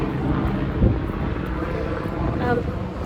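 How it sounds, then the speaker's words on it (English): A helicopter flies overhead in London, a steady, loud rumbling drone that fills the whole stretch, with an outdoor wash of noise around it. "There's a helicopter."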